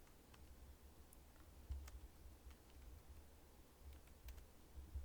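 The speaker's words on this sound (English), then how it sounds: "And then I can type" Someone types on a Mac computer keyboard: faint, scattered key clicks at an irregular pace over a low, quiet background hum.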